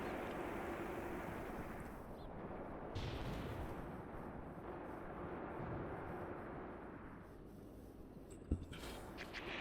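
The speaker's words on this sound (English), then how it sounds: "Lots of artillery coming in somewhere." Distant artillery fire rumbling in the Graviteam Tactics war game, a low continuous roar of faraway shelling with a few muffled thuds and one sharper impact near the end.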